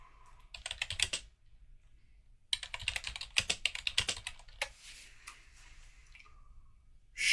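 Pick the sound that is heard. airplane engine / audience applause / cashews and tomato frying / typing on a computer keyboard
typing on a computer keyboard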